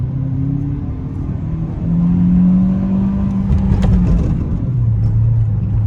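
Engine of a 2005 Opel Astra H 1.6 automatic revving while climbing a slope, a loud steady drone that rises in pitch and swells midway, heard from inside the car.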